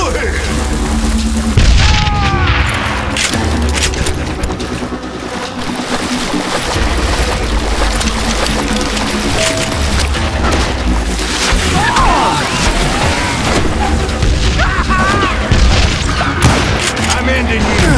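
Gunfire and heavy booms in the Western shooter game Call of Juarez Gunslinger, dense loud shots and impacts layered over music, with a voice talking through the action.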